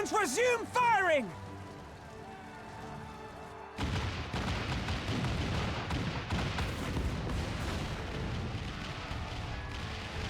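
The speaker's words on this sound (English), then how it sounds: "All cannons resume firing!" Heavy cannon fire in a video game battle from Final Fantasy XIV: Stormblood, a dense run of booming blasts and rumbling impacts that follows a shouted voice and lasts several seconds.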